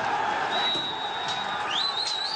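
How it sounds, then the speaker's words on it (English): A dense crowd of protesters fills Tahrir Square in Cairo during the Egyptian revolution. Their roar is a steady, broad wash of many distant voices with no single voice standing out. "Basically, the crowd, the protesters, have taken over Tahrir Square,"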